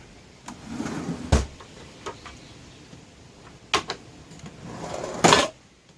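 Several sharp, isolated clicks spaced a few seconds apart as drawer catches in a campervan snap shut, over a quiet room hum.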